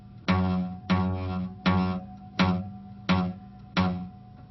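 A guitar note played with the fretting finger not pressed hard enough rings out six times in an even rhythm, each pluck decaying quickly and sounding slightly muted.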